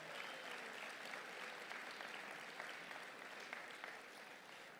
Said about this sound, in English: Let's give a round of applause to all of our national guys that are here.